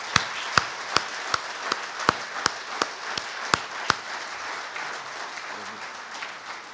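An audience at a talk claps in welcome, sparse but distinct handclaps that stand out clearly above a softer spread of applause and fade out near the end.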